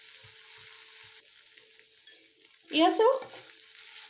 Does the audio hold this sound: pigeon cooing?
no